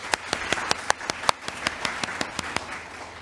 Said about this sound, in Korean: 도쿄오누리교회를 사용해 주신 하나님께 영광의 박수를 올려드리겠습니다